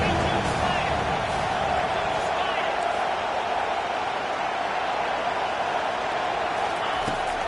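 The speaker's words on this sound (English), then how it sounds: "This crowd rising up, sensing that its defense needs some help." A stadium crowd in the Madden 22 football video game sends up a loud, sustained roar of cheering that fills the whole stretch. Commentary talk runs over it.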